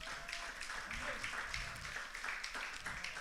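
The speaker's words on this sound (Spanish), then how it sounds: "Dele fuerte las palmas al Rey." A church congregation clapping their hands together in a dense, steady, fairly distant patter, with voices blending in beneath the claps.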